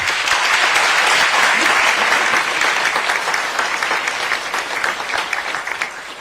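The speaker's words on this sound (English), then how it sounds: "Please give them a round of applause as well" Audience applause at a Fort Worth police chief swearing-in ceremony, honoring city manager Jay Chapa and assistant city manager William Johnson: a dense, sustained crowd ovation that starts full and gradually thins toward the end.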